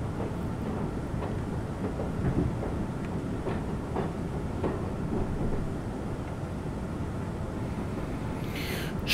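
Subway train running in the video game World of Subways 4: a steady low rumble with faint rhythmic clicking of wheels over rail joints, continuous and fairly loud, with no talk.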